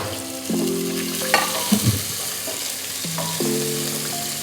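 Onions fry for a Maratha-style chicken biryani, giving a steady close sizzle with a few louder stirring clatters, under soft background music and no talking.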